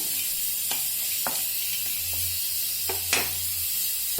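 Two star anise flowers heated in a pan while making biryani garam masala give a steady dry sizzling hiss, with occasional light clicks and scrapes from stirring, close and continuous.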